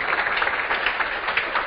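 Sustained audience applause, a dense wash of clapping hands that stays steady and fairly loud throughout, with no pauses.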